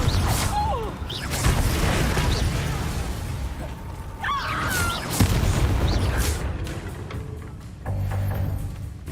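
Confringo fire spell explosions in the video game Hogwarts Legacy, a few booming bursts and crackling blasts mixed with whooshing spell effects and game noise, with some voice sounds around them.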